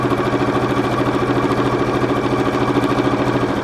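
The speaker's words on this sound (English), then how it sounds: "I can sew down, still on a zigzag stitch." Sewing machine running a zigzag stitch to close an elastic channel on a towelling cover-up, a rapid steady mechanical clatter with an even repeating rhythm, close and alone.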